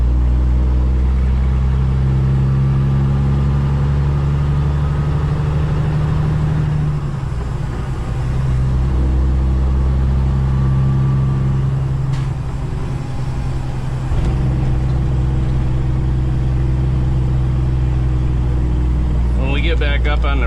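A propane-hauling heavy truck engine drones steadily and loudly in the cab, dipping briefly as gears are shifted, with a person talking over it.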